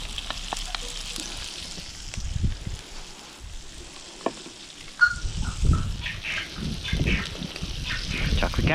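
Chopped onion frying in oil in a cast iron pot, a steady soft sizzle with scattered crackles that swells louder in the second half, with a few light knocks of stirring.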